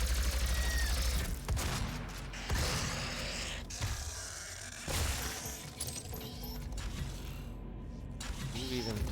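Rapid energy-weapon fire from a plasma rifle in DOOM (2016), a dense stream of crackling, mechanical bursts layered with game effects, loud and close, with faint talk in the background.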